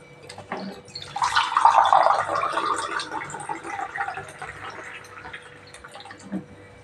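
Water pours and splashes into a cooking pot for ghee rice, swelling to a steady stream and then tapering to softer trickles and drips.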